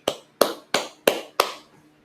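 Five sharp, evenly spaced claps ring out at a Sabbath service, each with a short decay, in a quiet room with no talk.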